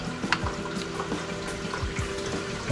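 Coolant pouring into the cooling system of a BMW 528i F10 after a thermostat replacement, a steady close liquid trickle and gurgle with small bubbling pops throughout, no talking.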